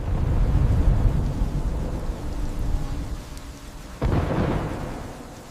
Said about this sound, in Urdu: تیز بارش شروع ہو گئی۔